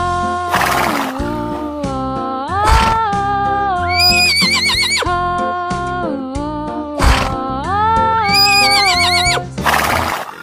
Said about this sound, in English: Yes, horse.